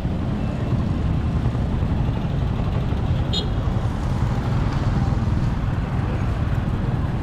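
Steady road traffic with many vehicles passing close by on a busy street, a continuous broadband rumble of cars and engines with a brief higher tone partway through, voices faintly mixed in.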